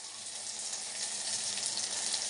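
Onions and masala frying for drumstick sambar, a dense continuous sizzle and hiss, close and steady throughout with no voices.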